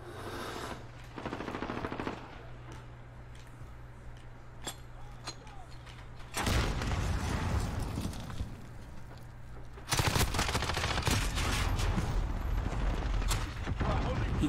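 Gunfire in the Modern Warfare video game: rapid bursts of shots and mechanical clatter, fairly loud, growing denser and heavier halfway through, with a player's voice talking at times.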